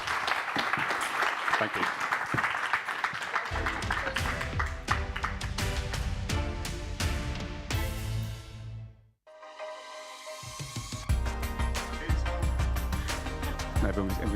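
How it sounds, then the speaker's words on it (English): Audience applause for a panel at a news publishers' conference, dense clapping filling the hall and briefly fading out midway before resuming, with a voice thanking the room over it. "A massive round of applause to the panel."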